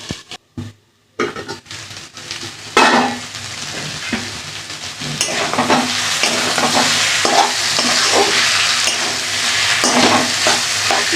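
Vegetables are stir-fried in a pan for kosha on low heat, with loud, steady sizzling and repeated scraping stirs after a few sharp knocks at the start.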